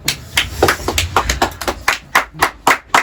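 Hands clap in a loose, fairly steady rhythm, a small close group rather than a large crowd, each clap crisp and distinct over about three seconds.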